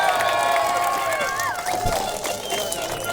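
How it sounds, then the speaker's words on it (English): Crowd applause and cheering for Andrew Bridgen at a public talk, a dense continuous roar of clapping with shouts and voices rising over it, loud and sustained throughout. "can everyone please make a massive round of applause for Andrew Bridgen?"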